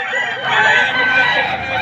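Roosters crow and hens cluck in a crowded poultry market in Padre Garcia, Batangas, the loud overlapping calls filling the whole stretch with no gaps.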